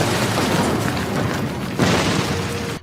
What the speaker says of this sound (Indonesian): tiba-tiba bangunan kastil itu meledak.